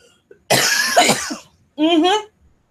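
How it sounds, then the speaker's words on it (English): Two sharp, close coughs, the first longer and rougher, the second shorter, separated by a short pause. "Excuse me for the cough."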